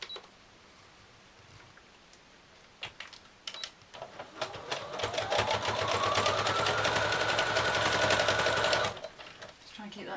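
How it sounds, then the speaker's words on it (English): A sewing machine runs a zigzag stitch on fabric for a Christmas Santa cushion, starting with a few short stuttering bursts before settling into a steady, fast mechanical whir that stops abruptly near the end. "I'll do a zigzag stitch again because you will see this one"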